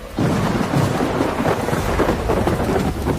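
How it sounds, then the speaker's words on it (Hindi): Steady heavy rain hisses throughout while a deep rumble of thunder rolls underneath, continuous and loud with no voices. "ठीक उसी वक्त बारिश भी शुरू हुई"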